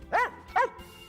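Two sharp dog barks a short pitch apart, close and fairly loud, with a faint pause of quiet after each.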